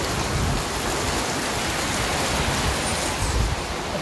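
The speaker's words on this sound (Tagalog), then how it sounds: "Ayan nga, umulan na po ng malakas." Heavy rain pours down steadily, a dense even hiss of falling drops that keeps up throughout without pause, no one speaking.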